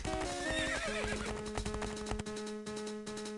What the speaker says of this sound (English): Barbie, use one of the horses to chase Camille.